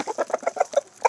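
Easter Egger chickens clucking in a quick run of short, close, loud notes while being fed, a busy farmyard flock with no talking in between.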